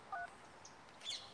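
Two brief, faint electronic telephone dialing tones in an otherwise quiet background.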